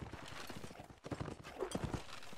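Horses' hooves clip-clop rapidly in a video game clan war, a busy overlapping patter of many strikes close by, mixed with other battle noise and faint voices.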